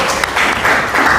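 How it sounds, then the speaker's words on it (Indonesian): Classroom applause for a student named Salsa during an Islamic religious education lesson, a short burst of dense clapping from a group of students, fairly close and steady throughout. "beri tepuk tangan untuk Salsa"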